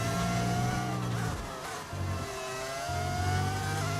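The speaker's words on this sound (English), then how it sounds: "This is a V10. This is a proper engine sound." Simulated V10 Formula 1 engine from the F1 25 racing game at the Austrian Grand Prix, a high, rising wail through gearshifts with a brief lift and tyre squeal before revving hard again.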